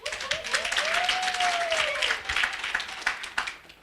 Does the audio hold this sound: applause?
yes